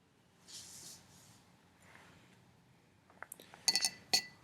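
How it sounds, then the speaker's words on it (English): A paintbrush is rinsed in a glass jar of water while watercoloring, giving soft swishing and then several bright clinks of the brush against the glass, fairly close and with no talk. "Rinse my brush off."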